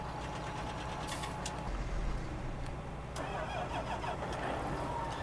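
A corn truck engine in a video game cranks and catches, then settles into a steady mid-pitched idle with clattering mechanical texture, fairly quiet and alone without talk.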